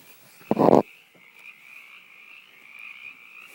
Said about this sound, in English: I can hear the fucking frog croaking.